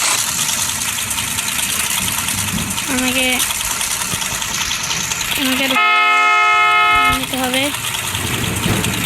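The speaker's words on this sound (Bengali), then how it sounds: "বাইকটা আসছে" A motorbike engine in a GTA 5 style Bangladeshi video game drones steadily while short horn toots sound, including one long blast, as someone talks over it.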